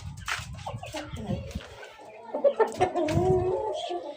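Chickens and roosters in a village yard, with close clucking and squawks tangled with a voice, then louder rhythmic clucking bursts from birds that tend to fight.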